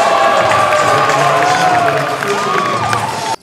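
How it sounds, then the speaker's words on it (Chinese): A crowd cheers and shouts in a university gymnasium at a basketball exhibition game after a point is scored, a loud, continuous roar with a few whistles that cuts off abruptly at the end. "引起全场欢呼。"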